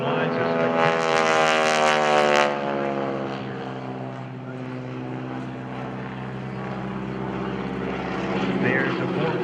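A stunt propeller plane wired with lights and pyrotechnic racks performs aerobatics at an airshow, its engine droning loud and near with a rising-then-falling pitch sweep as it passes, continuing steadily afterward.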